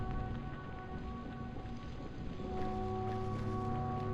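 Video game rain, from Nophenia, falls continuously with a constant wash of patter and a low background hum, no voices.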